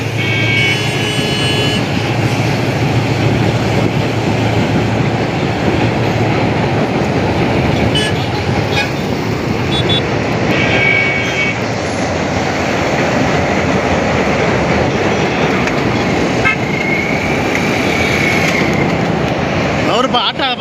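A train rumbles steadily and loudly across the Pamban sea bridge, with continuous rolling and rattling of wheels and cars and a faint whine at times.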